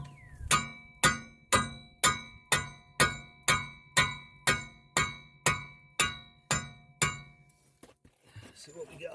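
A hammer strikes the wheel hub of a Pontiac G6 during a wheel bearing hub replacement: about a dozen loud, ringing metallic clanks in a steady, evenly spaced rhythm, up close, followed by a brief quiet stretch.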